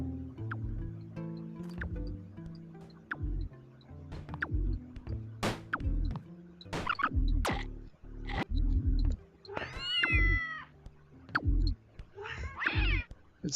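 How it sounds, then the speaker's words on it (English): A creature in the video game Braid that looks like a rabbit, giving cat-like meows that rise and bend in pitch, scattered over a plucked, rhythmic music bed with no talk. "It sounds like a cat"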